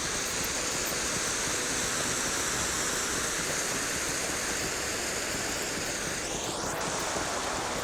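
A waterfall in the game Lord of the Rings Online gives a dense, constant rush of falling water. It stays loud and unbroken throughout, with a faint sweeping tone near the end.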